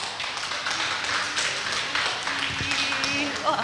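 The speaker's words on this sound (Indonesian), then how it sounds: "Langsung saja kita sambut dan beri tepuk tangan kepada Bunda Halimah." Audience applause welcoming a speaker, Bunda Halimah, at an Indonesian parenting seminar: a steady wash of clapping throughout, with a few sharper taps near the end and some voices mixed in.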